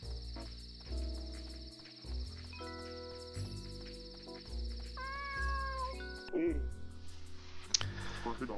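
Cats meow in the video game Dave the Diver, a mother cat with two kittens, a few short mews over game music and insect chirps while a voice talks throughout.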